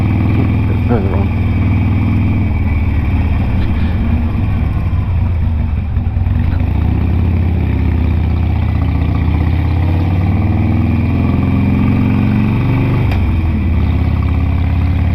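A Harley-Davidson Sportster 883 engine rumbles steadily at close range with a low, throaty exhaust note, running continuously under occasional talk.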